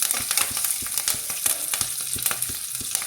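Curry leaves hit hot oil with green and dry red chillies for Andhra gongura pulihora, crackling and spitting loudly in dense bursts, with rhythmic ladle taps against the pan, close and without voices.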